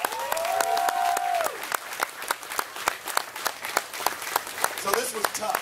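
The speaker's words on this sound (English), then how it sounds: "Let's give it a big round of applause real quick for all of them." Audience applause for the cooking teams at a Navy cooking challenge event, a dense burst of many hands clapping that carries on steadily, with voices and crowd noise mixed in and someone talking near the start.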